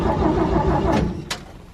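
A Chevrolet C10 truck engine cranks steadily in a continuous low churning burst, close and loud, trying to catch, with a couple of brief higher clanks near the end.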